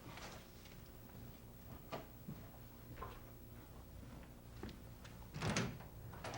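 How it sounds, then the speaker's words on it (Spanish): Door being opened indoors, a series of faint knocks and clunks ending in a louder thump from the latch and door moving, over a quiet background hum. "déjame abrirle la puerta"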